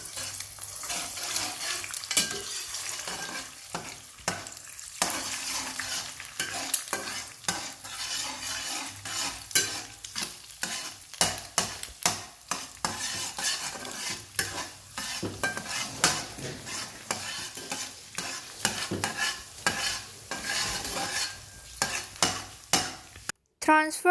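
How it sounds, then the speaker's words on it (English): An egg fries in hot cooking oil in a frying pan while being stirred, a steady sizzle broken by frequent scraping and clinking stir strokes throughout, close and fairly loud, with no talking. "Add egg and stir until cooked."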